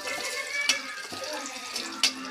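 Hot tempering of cumin, garlic cloves and dried chillies fried in oil, poured into cooked dal, giving a brief watery splash and crackle with a couple of sharp clinks, close and moderately loud.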